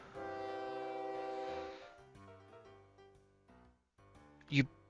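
An electric train in a railway video game sounds a long, sustained horn tone, which then fades into lower mechanical hums and a short sharp burst near the end.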